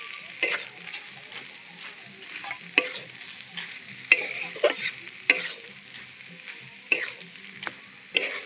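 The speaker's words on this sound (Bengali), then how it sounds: "গ্রেট করা আলুটা এবার আমি দিয়ে দিচ্ছি।" Grated potato being stirred into a banana blossom mixture in a pan, a steady soft sizzle broken by repeated sharp scraping and clinking strokes, close and fairly quiet, with no voices.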